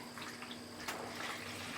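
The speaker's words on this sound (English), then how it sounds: "So now we'll add that water into the bowl." Water poured into a bowl for bread dough gives a soft running, splashing sound at low level with a faint steady hum beneath, and no talking.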